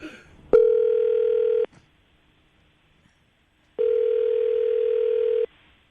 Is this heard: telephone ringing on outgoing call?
yes